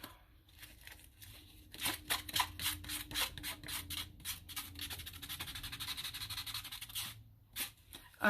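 Sandpaper rubbed along paper edges for a junk journal, giving an aged look: a run of quick, rhythmic scratchy strokes, close and fairly loud, pausing briefly near the end before a couple more rasps.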